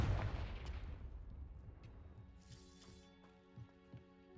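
A Confringo fire blast from the Hogwarts Legacy video game bursts loudly at the start, then rumbles away to a fading crackle while ringing tones and a few softer pops follow.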